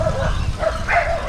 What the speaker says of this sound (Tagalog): Meron mga aso.